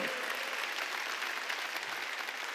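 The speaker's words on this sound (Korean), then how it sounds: "박수 치라 이게 박수 치라" A church congregation claps steadily throughout during a Korean sermon, a dense, even wash of applause with no pauses, heard from within the hall at moderate distance.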